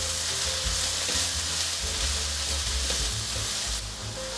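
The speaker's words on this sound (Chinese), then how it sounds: "开中大火，放入适量的油，油热了，把菇类都放进来，" Mushrooms stir-fried in hot oil over medium-high heat, a steady close sizzle and crackle with spatula scrapes and stirring knocks throughout, no talking.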